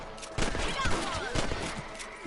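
Rifle gunfire in the Red Dead Redemption video game, aimed at rabbits, with several sharp, loud shots fired in quick succession over a short span.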